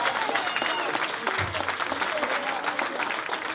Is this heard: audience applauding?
yes